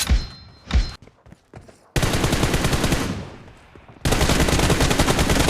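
Gunfire in PUBG Mobile, short separate thumping shots followed by loud sustained automatic bursts, close and dense with a brief lull between volleys.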